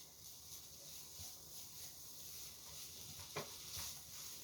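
Scallion, garlic and onion oil stir-frying in a pan makes a faint, steady sizzle with a soft clink near the end.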